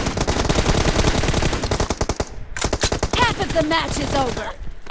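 Rapid automatic gunfire bursts fill a first-person shooter match, with dense repeated shots and brief gaps, while players talk over the action.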